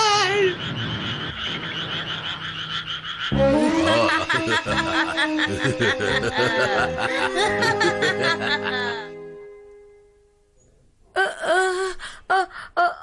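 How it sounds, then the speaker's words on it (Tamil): Cartoon frogs croaking in an animated Ninja Hattori feature, a busy layered chorus of warbling croaks with bright tonal accents. The chorus cuts out briefly, then returns in sharp bursts. "அடடா, தவளைங்க தவளைங்க தவளைங்க."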